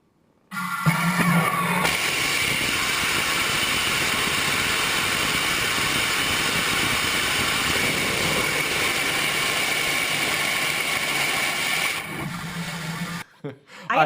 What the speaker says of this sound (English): They tested their new Katana class engine.